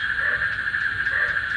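Frogs and insects call steadily at night after rain around waterlogged ground at a construction site, a continuous high, even chorus with no pauses and no voices.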